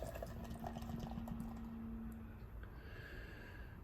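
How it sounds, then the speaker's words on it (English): Lupulin Brewing Co Resin Rapture, a 9% imperial red IPA, poured hard into a glass: a soft, steady liquid rush with fizzing, faint and close, running for a few seconds without talk. "Got the half hard pour going on."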